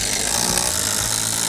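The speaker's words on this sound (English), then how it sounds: "I can get my drill in here, I can get my screws in here." Power drill driving screws into deck blocking between joists, a loud continuous whirring grind held steady throughout with no talk.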